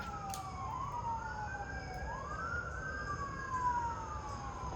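An emergency vehicle siren wails from a distance, its pitch sweeping up and down in slow cycles over a faint background hum.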